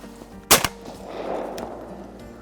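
A single sharp shotgun blast rings out close by during a Minnesota duck-hunting opener, a loud crack followed by a short echoing tail that fades into outdoor background noise.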